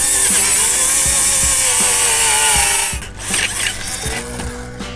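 A power tool whines steadily and loudly while a hydrofoil is bolted onto an outboard motor, with rhythmic clicking knocks underneath. The whine cuts off midway, leaving quieter fiddling thumps.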